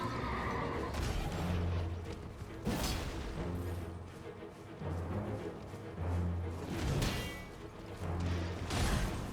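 Repeated horse whinnies and snorts over clopping hooves and dense game sound effects from Elden Ring, fairly close and recurring every couple of seconds.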